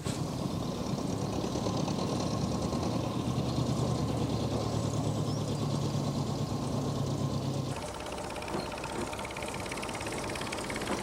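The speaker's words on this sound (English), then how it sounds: "They're powered by a transversely mounted water-cooled Dorman engine with a 2-speed reversing gearbox and chain drive." A diesel narrow-gauge quarry locomotive with a transversely mounted water-cooled Dorman engine, 2-speed reversing gearbox and chain drive runs steadily nearby, a continuous throbbing engine note that shifts and eases slightly toward the end.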